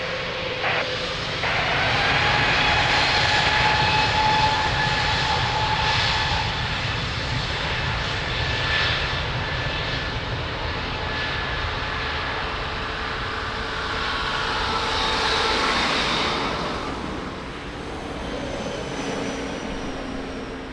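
A jet airliner takes off from runway 02 at Lisbon Airport, its loud engine roar rising and surging, then slowly fading as it climbs away.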